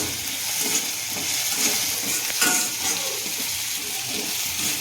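A yogurt green-chili chutney with kalonji seeds sizzles steadily in a pan while being stirred, a continuous close hiss and crackle with faint scraping; no voices.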